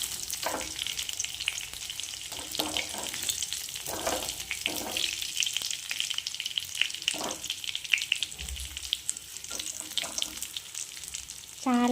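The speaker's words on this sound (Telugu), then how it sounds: "సిమ్లో పెట్టుకొని ఫ్రై చేసుకోవాలి గోల్డెన్ కలర్ వచ్చేవరకు" Mutton kheema balls fry over low heat in a pan, giving a steady close sizzle with scattered crackles and pops throughout and no talking.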